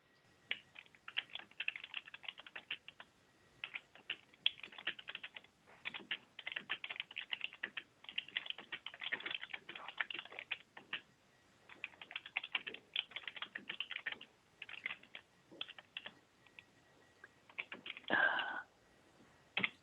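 Typing on a computer keyboard at a zoning board meeting, a long run of quick, irregular key clicks in short bursts with brief pauses, close to the microphone in a quiet room.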